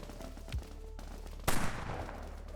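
A Vindicator rifle firing in Dead Frontier: a couple of sharp reports, a lighter crack early on and then a louder shot with a brief decaying tail, over quiet background hum.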